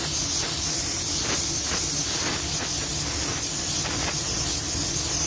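A spray gun lays blending paint onto a car fender during a spot repair, giving a steady, close, continuous hiss with slight pulsing throughout and no voices.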